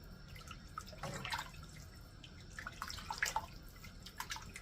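Canned broth pours into a soup pot for chicken noodle soup, giving faint, intermittent splashing and dripping liquid sounds up close, with no talking.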